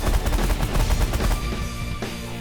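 Weapons firing in The Last Federation, a space strategy game: a dense, loud barrage of rapid overlapping shots and impacts runs steadily throughout, with no voices.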